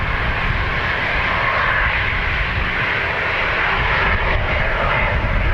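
An airliner taxis at Dublin Airport, giving a loud, steady jet-engine roar that holds evenly with no pauses.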